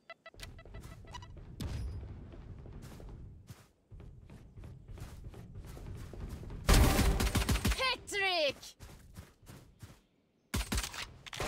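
Gunfire in the video game Valorant comes as bursts of rapid shots and single cracks, loud and close, with gaps and a sharp metallic flourish between volleys; a voice is faintly present.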